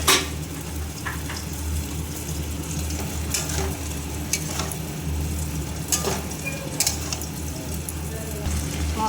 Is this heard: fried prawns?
yes